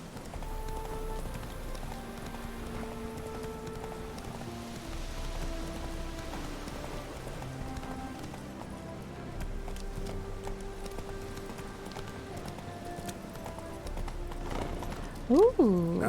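Hooves of the horse Roach clip-clop at a gallop in The Witcher 3 video game, a steady mid-level rhythm under in-game music and a talking voice, with a brief louder burst near the end.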